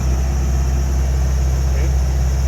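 A JS220 excavator engine idles roughly at low RPM near stalling, around 1200, while its fault is being checked; a loud, steady, close low-pitched drone runs throughout with no break.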